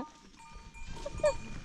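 A sheep on a high mountain trail near Manang gives a single short bleat against quiet outdoor background noise, moderately close and fairly faint.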